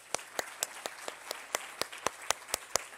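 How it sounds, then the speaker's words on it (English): A few people clapping for contestants at the 2019 UC Berkeley Grad Slam competition, in a sparse, uneven rhythm, with sharp individual claps spaced about a quarter second apart and no talking. "another round of applause to our amazing contestants"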